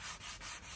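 A sanding pad rubs back and forth over a cleaned leather seat from a BMW E36 convertible, a close, loud, steady scratchy hiss in three quick strokes, with no talk.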